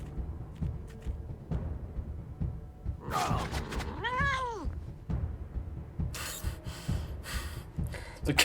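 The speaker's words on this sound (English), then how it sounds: "The cat's obviously just some guy going meow." Cat meowing in the video game Wasteland 3, one drawn-out wavering meow amid game thumps and background noise, fairly close and clear.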